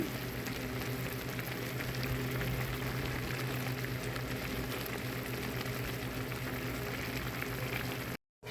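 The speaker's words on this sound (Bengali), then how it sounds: "এখানে ডালটা আমি সেদ্ধ বসিয়ে দিয়েছি, ডালটা সেদ্ধ হচ্ছে" Masoor dal simmers in a pot with a steady, close bubbling hiss that continues unbroken until it cuts off abruptly at the end.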